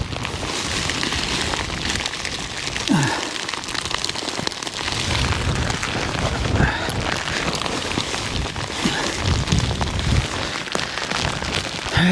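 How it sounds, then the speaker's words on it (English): Heavy rain pounds a tent at a hill camp in strong wind, a dense steady roar of drops hitting fabric close by, with occasional faint thumps and rustles. "Jesus Christ, the rain."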